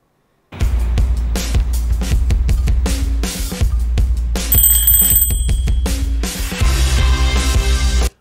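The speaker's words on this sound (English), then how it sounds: "here it is, twin bell alarm clock" A twin bell alarm clock rings as a sound effect, a rapid metallic clattering trill that starts abruptly and keeps going at full loudness for several seconds before cutting off.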